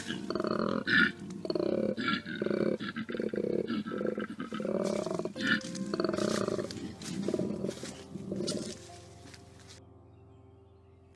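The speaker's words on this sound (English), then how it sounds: "koalas make a low, rumbling vocalization, a sound one would expect from an elephant rather than a koala" A koala gives a deep, rumbling bellow in a long series of throaty grunting pulses, loud and close, fading out toward the end.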